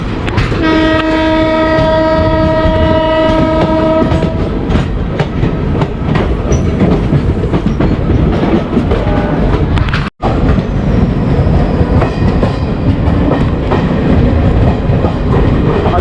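Mumbai Firozpur Punjab Mail train sounding a loud horn with sustained harmonic blasts for about four seconds, then the rumble and rattling clatter of coaches rushing past close by.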